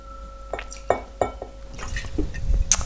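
Johnnie Walker Green Label blended Scotch whisky poured into a glass: a few close, distinct liquid drips and glassy clinks followed by a short gurgling pour, quiet and without talk.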